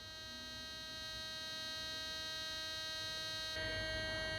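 Steady electronic hum from a metal detector just after its sensitivity has been tuned to zero, a constant buzzing tone with stable harmonics that grows slightly louder near the end, with no talking.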